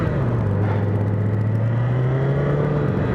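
A 2010 Honda CBR1000RR 1000cc sport motorcycle pulls away in first gear, its engine a steady, close, loud drone with a tone that climbs slightly as it takes off, and no talking.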